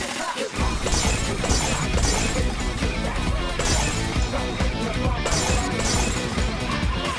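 Glass shattering in a satisfying-themed video game, a dense continuous crash of breaking glass with bright crackling debris that fills the whole stretch loudly after a brief quiet start.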